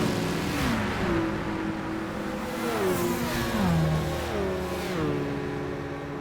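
Several race car engines, including an R8 and a GT40, rumble and rev in Gran Turismo 5, their pitch rising and falling through gear shifts, loud and continuous with no talking.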